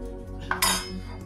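Metal plates clink and clatter as they are handled and laid out for steaming rice batter for homemade akki happala, a couple of close, bright knocks and a ringing clang over a faint steady hum.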